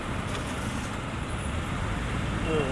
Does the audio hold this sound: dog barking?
no